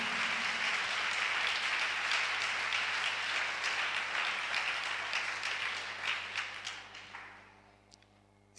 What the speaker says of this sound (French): Acclamons pour lui si tu veux acclamer.